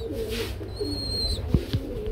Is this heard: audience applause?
no